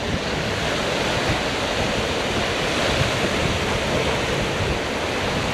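Baltic Sea waves washing onto an island beach near Turku, a loud continuous roar of surf with wind buffeting the microphone, steady and close with no voices.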